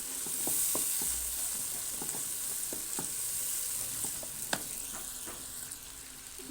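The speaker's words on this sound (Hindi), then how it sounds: "अब मैंने इसमें ऐड कर दिया है अदरक लहसुन और हरी मिर्चों का पेस्ट जो मैंने बना के रखा था वो। अब हम इसको 2 से 3 मिनट तक भूनेंगे।" Ginger, garlic and green chili paste frying with onions in a pan, a steady soft sizzle with occasional stirring clicks and scrapes, close and fairly quiet, no talking.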